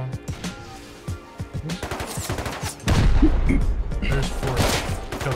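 Bolt-action rifle gunfire in the video game Rust, a burst of sharp reports and battle noise that turns denser and louder halfway through, with a voice faintly present under the shots.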